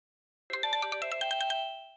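A phone rings with a bright, chiming ringtone melody, a quick run of repeated electronic tones lasting about a second before fading out, clear and alone with no talking.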